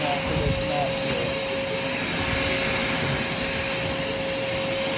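A handheld vacuum cleaner works over a doormat, giving a loud, steady, unbroken roar with a sharp high whine running throughout, close and continuous with no talk.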